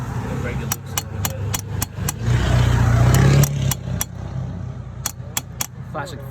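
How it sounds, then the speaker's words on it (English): A classic Ford car passes near a 1973 Kenworth W900 truck, its engine rumbling and briefly swelling louder mid-pass before easing off, with sharp clanks of a wrench on metal close by. "Classic Ford driving by."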